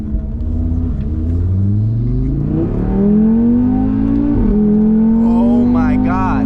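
An Audi RS3 in dynamic mode accelerates hard on a twisty road, its loud engine note climbing steadily through the revs with a brief dip at a gear change, heard up close from inside.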